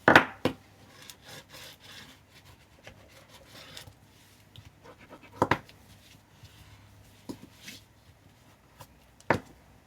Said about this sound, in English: You want to make sure it burnishes down.